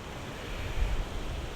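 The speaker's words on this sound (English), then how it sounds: "Oh, it's windy, isn't it?" Wind gusting across an open golf course, a broad low rumble buffeting the microphone steadily throughout, with a slightly stronger gust near the middle and no speech.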